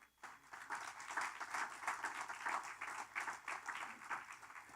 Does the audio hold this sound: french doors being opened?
no